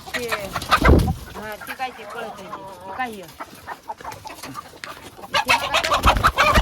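A country rooster clucks in a farm field during a festive outdoor party, its calls mixed with people talking nearby.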